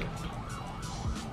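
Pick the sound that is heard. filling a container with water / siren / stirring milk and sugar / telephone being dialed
siren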